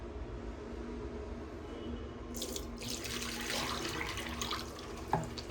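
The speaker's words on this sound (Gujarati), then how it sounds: "આમાં જે પાણી ભરેલું છે એને કાઢી નાખીએ" Water being emptied out of a household water filter container while it is repaired, a steady close splashing pour that grows brighter and fuller midway, with a brief clunk near the end.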